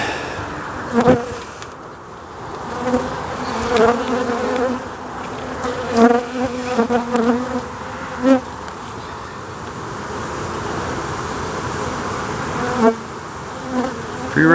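A honeybee swarm buzzes around, a continuous close insect drone with bees passing near the microphone in louder swells, no voices present.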